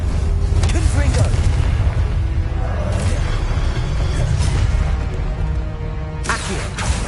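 The Confringo explosive spell goes off in Hogwarts Legacy, with loud, booming blasts at intervals over a rumbling game soundscape.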